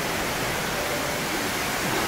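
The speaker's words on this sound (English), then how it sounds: "this is the other side of the waterfall, walking back down" Waterfall at Long Beach Resort in Alanya, Turkey: a steady, loud, close rush of falling water filling the whole stretch without a break.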